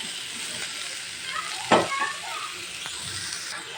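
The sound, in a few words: bottle gourd being stirred and fried in a pan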